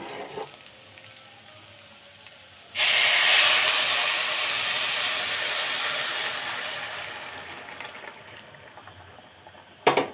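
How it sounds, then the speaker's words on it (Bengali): Hot water is poured into rice for Bengali hilsa pilaf, setting off a loud, close, steady hiss that starts abruptly, holds for about seven seconds and fades, ending with a clatter. "এবার আমি জলটা দিয়ে দিচ্ছি।"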